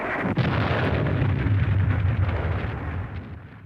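Artillery fire from a World War I battle on the Somme: a sharp blast opens, followed by a long, dense rumble of continuous distant bombardment that slowly fades, with no talk.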